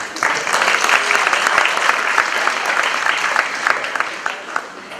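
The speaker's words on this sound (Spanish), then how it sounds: "Le damos un fuerte aplauso, por favor." Audience applause at a whisky presentation in Bolivia honoring the first Latin American whisky distillery, a loud, steady burst of many hands clapping throughout, with dense rapid claps and no talk over it.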